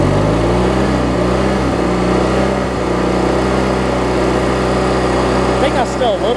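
A Briggs & Stratton opposed-twin engine on a Craftsman mower runs with its throttle raised. It gives off a loud, steady, close-up drone with a strong, even hum that holds throughout.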